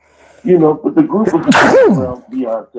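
A person sneezes once, loud and close, in the middle of ongoing conversational speech, with the talking continuing on either side.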